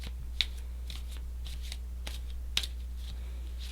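Tarot cards are shuffled in quiet bursts of crisp riffling and flicking, close by, with a steady low hum underneath and no talking.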